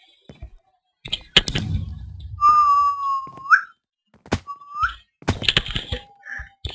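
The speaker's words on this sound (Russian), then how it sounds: "Свистуны года." A person whistles a long, steady note that bends upward at the end, followed by a second short whistle, with thumps and clicks around them in an online game session.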